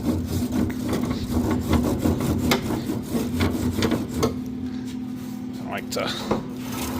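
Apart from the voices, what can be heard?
scraping grill grate with a scraper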